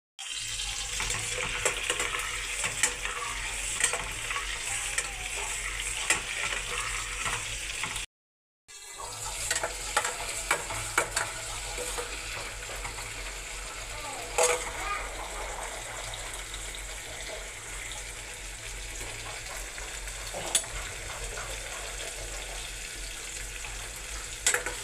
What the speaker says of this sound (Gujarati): આપણે એકદમ મસ્ત તળાવવા દઈશું